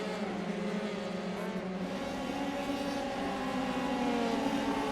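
F3 race car engines in iRacing blaring down the main straight, a dense, sustained high-revving drone of several cars with rising harmonic tones, loud and continuous throughout.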